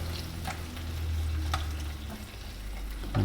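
Kangaroo meatballs in Italian tomato sauce warm in a pan, with a soft, low simmering sizzle and a few quiet stirring scrapes, close and fairly faint.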